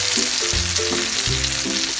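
An eggplant omelette fries in oil, a soft and steady sizzle that continues throughout, with faint pan clinks while it is turned over. No one speaks.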